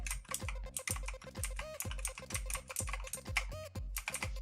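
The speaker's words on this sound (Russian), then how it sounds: "Вот так вот звучат просто обычные кнопки." Brisk, continuous typing on a clicky ZET BLADE mechanical keyboard with Kailh Blue switches, each keystroke sharp and close, with a steady uneven rhythm and no voices.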